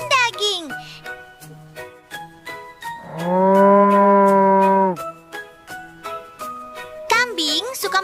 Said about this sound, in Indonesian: Ada sapi, penghasil susu dan daging.